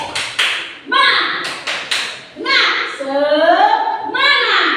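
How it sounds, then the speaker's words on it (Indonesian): A class does a rhythmic spirit clap (tepuk semangat): short bursts of sharp group claps alternate with loud chanted voices, close and lively. "Sebelum kita masuk site engineer, tepuk semangat dulu kita."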